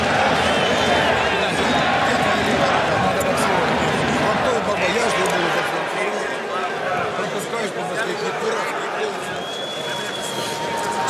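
A packed boxing arena crowd at the Gassiev vs Lebedev title fight, a loud sustained roar of chanting and shouting from many fans that fills the whole stretch and eases a little toward the end.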